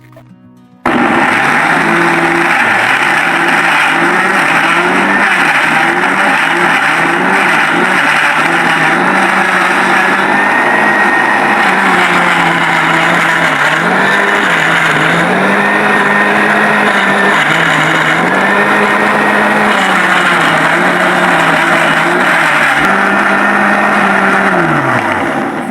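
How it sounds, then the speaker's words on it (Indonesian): Electric blender grinding shallots and garlic into a paste, a loud steady motor whine with a shifting pitch as the contents churn, running continuously for about 25 seconds after starting, with no talk over it. "Sekarang yang bawang merahnya sama bawang putih kita haluskan ya bun."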